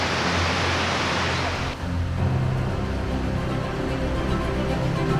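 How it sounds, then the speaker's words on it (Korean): Skradinski Buk waterfall in Krka National Park, Croatia, gives off a steady, dense roar of falling water. It is loud and unbroken, with only a brief dip in level partway through. "크르카 국립공원을 대표하는 얼굴 스크라딘스키 부크 폭포입니다"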